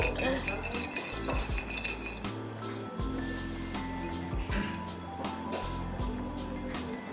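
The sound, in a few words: shaking folded question papers in a container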